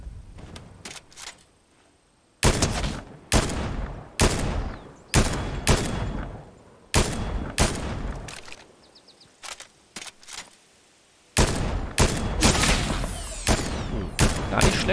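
Gunfire in Fortnite comes in repeated loud bursts of sharp shots, clustered volleys separated by short quiet gaps, close and dominant throughout.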